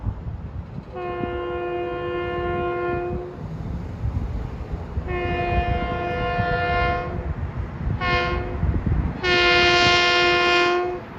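An LIRR M7 electric commuter train, number 1056 bound for Ronkonkoma, speeds past Pinelawn, sounding its horn in long blasts and a short toot over a loud rumbling rush of passing cars.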